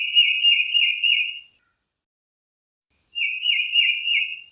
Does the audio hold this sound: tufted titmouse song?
yes